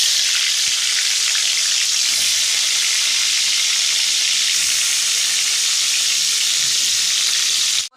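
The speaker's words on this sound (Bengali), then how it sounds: "কড়াই তেল গরম হয়ে গেছে, এবার মাছগুলো এক এক করে ছেড়ে দিই।" Prawns frying in hot oil in a wok, a loud, dense, continuous sizzle with crackling that holds steady for several seconds before cutting off abruptly at the end.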